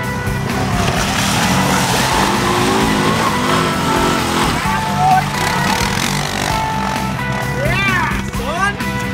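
Off-road vehicle engine revving loudly and continuously under throttle during an Alaska moose and caribou hunt, with tire noise and people talking over it.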